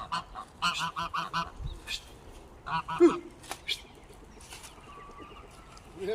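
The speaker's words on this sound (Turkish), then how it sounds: "Kazlar da gelsin." Geese honk in short, loud bursts, several calls in quick succession with pauses between, alongside some softer clucking fowl sounds.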